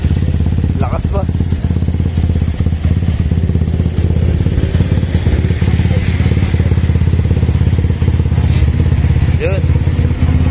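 A Yamaha NMAX scooter engine runs loudly and steadily close by at a motorcycle accessory shop, with a brief rev and some clatter, while people talk over it.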